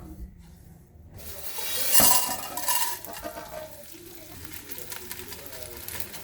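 Dry nut powder stirred with chiroti rava in a pan, soft scraping and rustling with a sharp metallic clink near the start, close and moderately loud, no talk.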